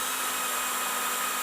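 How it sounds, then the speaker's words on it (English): Belt sander running on a board clamped to a workbench, giving a steady, loud, broadband whirring hiss with no pauses. "way to be able to sand with a belt sander is just to make yourself a simple stop"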